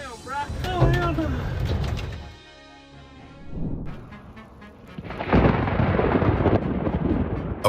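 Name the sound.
lightning strike and thunder during a storm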